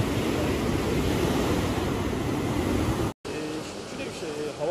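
Heavy waves crash continuously on the Black Sea shore in rough weather, a loud, dense roar of surf with wind buffeting, briefly cut off before the breaking water resumes.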